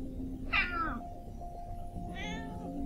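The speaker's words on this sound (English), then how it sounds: "It is a cat." A cat meows twice in the Dark Tales hidden-object game, a short rising mew followed a second later by a second one, both clear over a low steady hum of background music.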